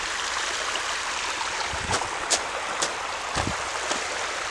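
A river that has run clear after its first flood flows with a steady, broad rushing wash, nearby and moderately loud, with occasional splashy bursts over the continuous flow.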